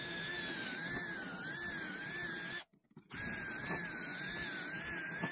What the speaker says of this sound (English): So let's drill a couple of holes.